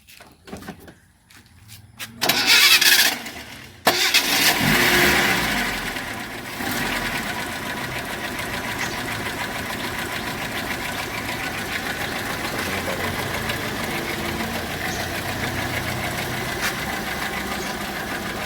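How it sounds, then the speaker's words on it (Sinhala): Bajaj B211 three-wheeler engine after an electronic CDI conversion, idling in a steady, even putter that holds for most of the stretch after a few loud bursts and clatter at the start. "එන්ජින් එක ස්මූත් වැඩ කරනවා"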